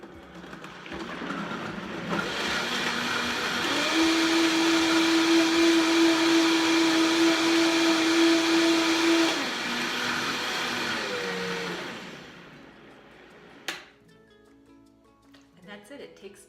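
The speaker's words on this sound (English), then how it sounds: "I have loaded up the blender with 5 cups of water, and I'm going to add my preserved lemon in its whole food form" A blender runs loud and steady for about eight seconds, mincing whole preserved lemon, skin and all, in five cups of water, with a rising whir at the start and a winding-down tail before it stops.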